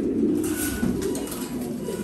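Racing pigeons coo in a low, continuous murmur that runs steadily throughout, close by and moderately loud, with no voices present.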